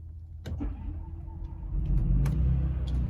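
Small gas engine generator on a Forest River Sunseeker 2250SLE RV cranking and firing up, a few sharp clicks and then a steady running drone that grows louder.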